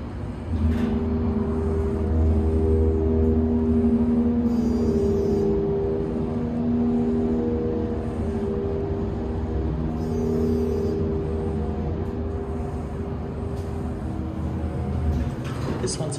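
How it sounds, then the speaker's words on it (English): A Montgomery hydraulic service elevator in a hospital basement, rated at 7,000 pounds, runs with a steady low motor hum and rumble that holds for about fifteen seconds before trailing off, with a faint higher whine on top. "Let's be quiet so we can listen to the motor."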